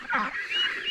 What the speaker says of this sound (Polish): Kaczki. Uciekać.